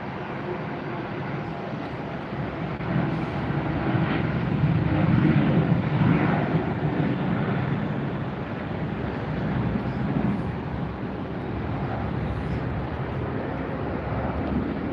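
A JetBlue jet airliner takes off at Tampa Airport, its broad engine roar swelling to a peak midway and then easing as it climbs away, with faint wind noise.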